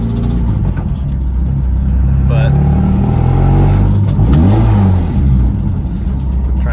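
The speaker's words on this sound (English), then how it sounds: "try and blow it up right now, give it some revs" A Dodge Stratus with a manual swap idles with a low rumble, then its engine is revved, rising and falling in pitch close by, while someone talks briefly over it.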